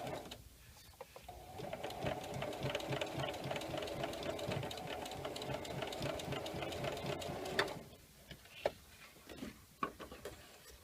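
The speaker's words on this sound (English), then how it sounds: "is my sewing machine, vintage sewing machine" A vintage turquoise sewing machine stitches through an empty pet food bag, whirring in a fast, steady mechanical rhythm for about six seconds before stopping, followed by a few scattered clicks and handling noises.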